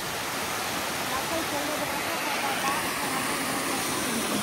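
A steady, dense rush of water pours continuously from Anguthi Sunai Falls close by, with no breaks and no voices over it.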